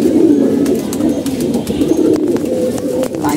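Pigeons coo in low, continuous throaty rumbles close by, several birds overlapping in a steady murmur with faint chirps and small knocks on top.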